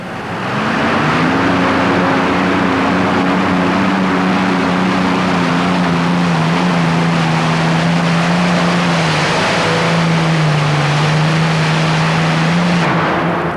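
A modified pulling tractor powered by aircraft engines roars inside the Houston Astrodome at a 1991 tractor pull, a loud continuous drone with a steady pitch that dips and wavers near the end.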